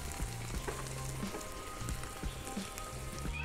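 Onions frying on a barbecue grill for a Swabian burger, a steady close crackling sizzle with scattered pops and a low background hum, no talking.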